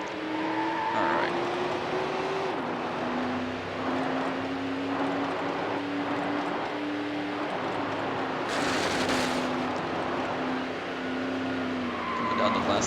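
Race cars, a Ferrari F50 among them, roar through a Need for Speed Hot Pursuit 2 championship race, with engines shifting pitch, tires squealing and cars passing under steady commentary.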